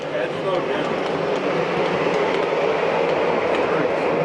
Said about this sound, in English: We have Mike's subway going